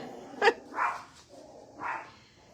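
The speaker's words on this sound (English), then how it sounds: "it's just a dog barking outside." A dog barks outside, two or three short muffled barks spaced about a second apart, slightly distant and alone over a quiet indoor background.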